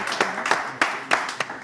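A small audience claps to welcome a game master on stage at an event, with sparse, uneven claps rising in a few distinct bursts amid light background noise.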